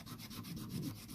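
400 grit sandpaper backed by a stone, rubbed against a Remington 700 trigger screw: close, rhythmic back-and-forth scraping strokes, about eight quick passes in a row with no talking.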